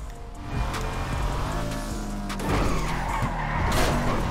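A four-wheel-drive car in GTA Online skids while spinning around, tyres squealing over a revving engine, close and loud, ending in a brief scrape.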